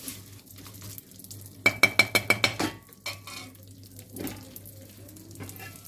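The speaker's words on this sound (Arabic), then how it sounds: "حمري بقى الشعريه لونها يبقى لون البني كده شويه عشان تبان في الرزه اهو" Vermicelli browning in oil in a pot for vermicelli rice, stirred with a utensil: steady sizzling under a quick run of about six sharp metallic clinks and scrapes against the pot, then softer stirring.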